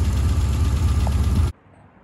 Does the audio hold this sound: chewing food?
no